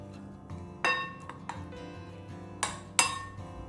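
A spoon stirs gram flour (besan) in hot oil in a pan, giving quiet scraping under a few sharp metallic clinks and taps against the pan at irregular moments, close and without talk.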